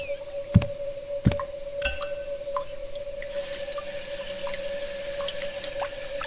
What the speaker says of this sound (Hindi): उसने अपना चेहरा धोया